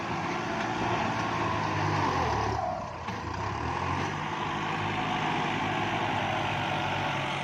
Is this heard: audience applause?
no